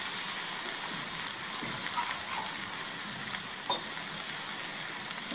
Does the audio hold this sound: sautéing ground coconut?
yes